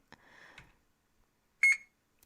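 A single electronic barcode-scanner beep at a store checkout, short and bright, following a softer faint rustle, then quiet.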